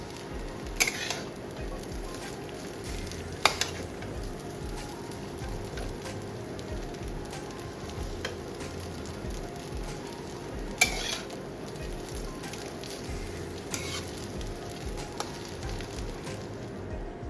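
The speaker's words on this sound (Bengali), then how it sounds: "এই যে একটু ওপর নিচ করলে খুব সুন্দরভাবে মেশানো হয়ে যাবে" Bengali-style chowmein with spices tossed and stirred in a frying pan, a steady sizzle with a few sharper spatula knocks scattered throughout, close and continuous without talk.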